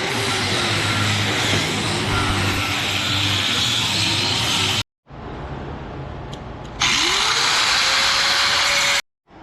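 A power tool cutting a metal tab off the gas tank mount of a drift quad, a loud continuous whine and buzz that cuts out, resumes and rises in pitch, close by with no talking.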